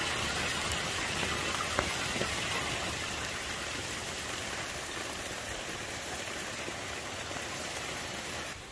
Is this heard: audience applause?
no